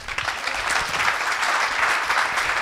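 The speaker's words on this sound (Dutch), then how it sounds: "Uw applaus voor Elfie Tromp" Lecture audience applauds writer Elfie Tromp after her talk 'Roedeldier', an even wash of many hands clapping, moderately loud and continuous throughout.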